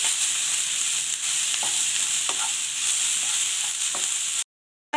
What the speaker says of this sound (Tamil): எல்லாத்தையும் சேர்த்து நல்லா வதக்கிக்கலாம்.